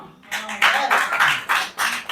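Audience clapping at a Hindi kavi sammelan poetry recital in Bhopal, coming in short bursts of applause that swell and dip over about two seconds, fairly close and loud.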